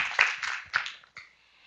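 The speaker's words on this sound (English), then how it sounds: "Well, welcome our distinguished panelists again. So applaud." Audience applause for a panel of speakers at an internet governance forum, a short burst of clapping that swells in a few uneven waves and then fades out quickly.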